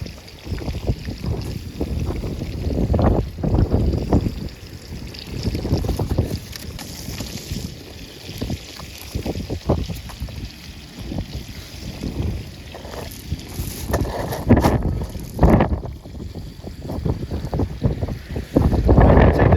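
Wind buffets a small fishing boat at sea off Dorset in shifting northerly gusts, a steady rushing roar close on the microphone with irregular louder blasts and water slapping against the hull throughout.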